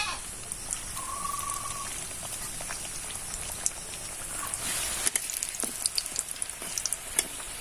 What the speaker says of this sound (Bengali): এবার আমি এগুলোকে তেলে ভেজে নেব।